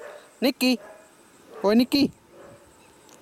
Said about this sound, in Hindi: कोई तो कुत्ता भौंक रहा है लेकिन कहाँ से भौंक रहा है